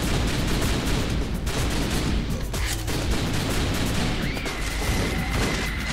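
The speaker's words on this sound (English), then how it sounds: "Oh, I found the grenade button." Dense, loud combat din from a video game, with continuous blasts and crashes that fit grenade explosions, packed tightly for six seconds with no pause, and a thin whistling tone rising near the end.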